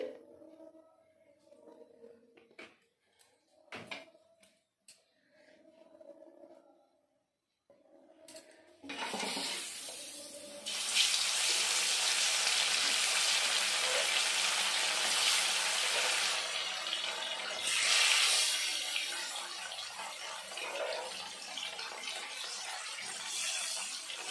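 Salted, turmeric-rubbed lailontika fish hit hot mustard oil in a wok, setting off a loud, steady hiss of frying that follows a few quiet clinks and soft handling sounds.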